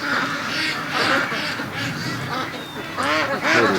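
A flock of free-range ducks in a pen sounds off repeated loud quacking alarm calls, raspy overlapping honks rising in clusters against steady outdoor background noise.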